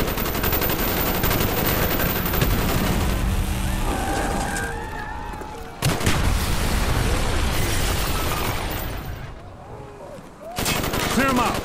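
Dense, loud gunfire from Call of Duty: Black Ops, the Operation 40 street fight, with sustained automatic bursts and blasts layered over battle noise, a brief lull near the middle before the shooting resumes.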